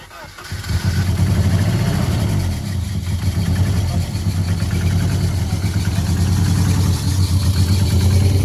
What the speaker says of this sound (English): Yeah, so we're not on all cylinders at the minute.